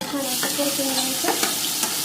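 Chilli and garlic sautéing in hot oil in a pan, with a steady close sizzle and a few sharp stirring scrapes over it; no talking.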